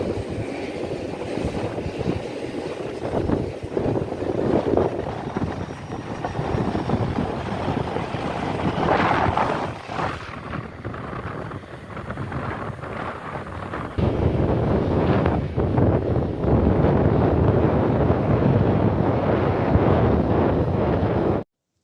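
A plane takes off at London Luton Airport, its engines roaring steadily from the runway under heavy wind buffeting on the microphone, the noise swelling and surging louder partway through as it powers along at full thrust.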